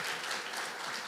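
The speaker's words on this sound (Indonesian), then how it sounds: "Tepuk tangan buat Tuhan" Applause from a church congregation during a service comes as a brief, dense burst of clapping, fairly faint and steady throughout.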